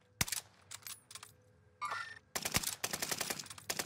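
Long-range weapon fire in a video game: a sharp early shot, scattered softer pops, then a dense run of rapid, loud shots crackling in quick succession near the end, with no talking.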